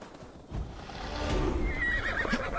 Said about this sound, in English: Oh, my horse is here.